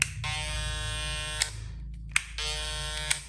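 A Super V electric hair clipper buzzes steadily, switches off briefly with a click, then starts buzzing again; close, high-pitched, fairly quiet motor whine with no talking.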